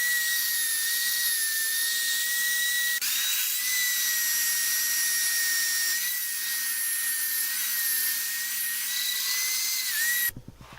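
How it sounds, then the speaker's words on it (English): A steady high-pitched whine of a spinning lathe with sandpaper held against the back of a resin-inlaid wood bowl, loud and continuous, with a brief shift partway and an abrupt stop near the end. "I'm going to sand it from here"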